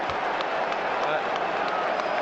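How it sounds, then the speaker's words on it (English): A football crowd of Newcastle fans cheers at a match against Brentford, a steady, dense roar with no gaps, and a commentator's voice running over it. "Now the cheer from the Newcastle fans"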